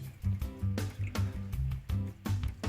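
Liquid fertilizer solution pours from a container onto tomato plants in repeated glugging, splashing bursts with short pauses between them, heard up close and fairly quiet.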